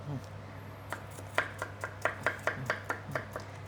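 A cleaver chops through ingredients such as water chestnuts on a board for steamed pork patties. About a dozen crisp, fairly regular knocks come close-up, alone and without talk.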